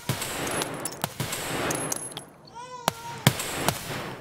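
Gunfire in Escape from Tarkov: scattered single shots crack at irregular intervals over a steady background hiss, with a short ringing tone partway through, fairly close.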